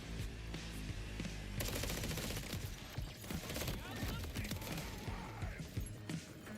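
Rapid gunfire from a gun in the Borderlands 4 video game, dense bursts of shots layered over a busy game soundscape, with someone talking over the action.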